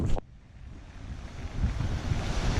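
Surf washes onto a beach at Pattaya, Thailand, a soft broadband wash with wind buffeting the microphone, swelling louder in the second half as a wave rolls in, with no voices.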